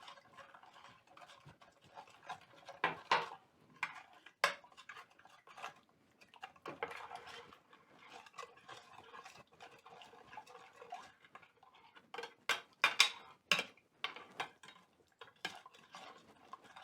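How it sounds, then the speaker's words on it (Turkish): Egg, black pepper, salt and milk batter is whisked in a bowl, a fork or spoon clinking and tapping against the sides in quick rhythmic bursts, soft and close, with brief pauses between rounds of mixing. "Şöyle iyice karıştırdım."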